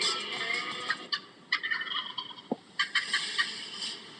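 Wild turkey gobbling in a repeated series of bursts, moderately loud, with no speech and a hissy background.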